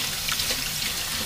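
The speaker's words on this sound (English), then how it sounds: "Now I get to actually wash my hands." A kitchen tap runs steadily as hands are washed at the sink during biscuit baking: a constant, even hiss of flowing water with no talking.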